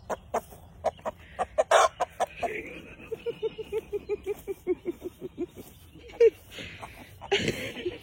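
Roosters being scared into their pen by a dog cluck in a rapid, regular series of short calls close by, with a rising squawk toward the end and a voice speaking at times.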